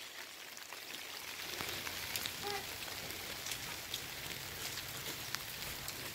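Steady rain falls outdoors during major flooding at a house, a dense continuous patter on surfaces with scattered distinct drops, moderately quiet and with no voices.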